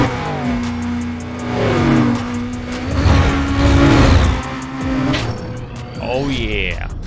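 Sports car engine racing in Need for Speed Undercover, a loud sustained drone with revving rises and a pass-by sweep near the end, with talk over it.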